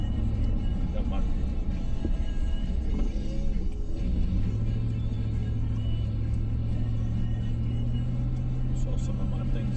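A vehicle engaged in four-wheel drive pushes through deep snow at camp in Vermont, a steady heavy rumble with a drivetrain hum that settles into a constant drone, while people talk inside the cab.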